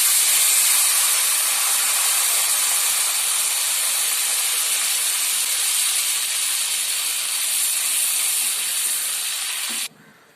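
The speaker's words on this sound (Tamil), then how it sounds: "மிளகாத்தூளில் கொஞ்சமாக தண்ணி ஊற்றிக்கோங்க." Water poured into hot chili powder tempering for a dried anchovy fish curry sizzles with a loud, steady hiss that holds for about ten seconds, then cuts off sharply.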